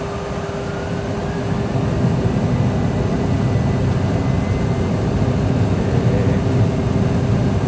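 Boeing 737 jet engines spooling up to takeoff thrust in a cockpit setting, a loud steady roar with a rising whine that holds throughout, no voices.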